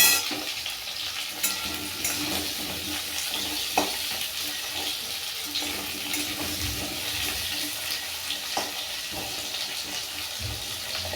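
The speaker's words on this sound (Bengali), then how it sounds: "ভালো করে নাড়িয়ে লাল লাল করে ভাজতে হবে" Potatoes and pointed gourd stir-fry in a pan, a continuous hissing sizzle broken by repeated scrapes and clacks of a spatula stirring at irregular intervals, close and fairly loud throughout.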